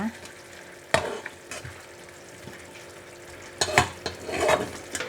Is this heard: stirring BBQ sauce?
yes